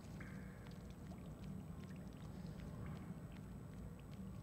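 Water in a sewer level of Little Nightmares makes a continuous faint pouring and rushing sound, an even steady wash with small splashes and no voices.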